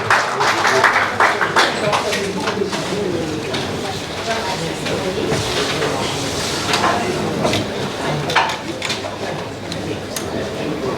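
Applause from an audience at a tribute ceremony greeting Professor Mamadou Dramé, a dense, steady crowd clapping that fills the room for about eleven seconds, with a brief voice near the start.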